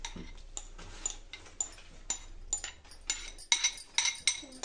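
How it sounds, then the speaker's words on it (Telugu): Dry fruits soaked in orange syrup being stirred into eggless plum cake batter, with a spoon clinking and tapping against the bowl in irregular bursts, quiet at first and growing louder toward the end. "ఇవి వేసుకున్న తర్వాత ఒకే డైరెక్షన్లో అంతా మిక్స్ చేసుకోవాలండి బ్యాటర్ అంతా"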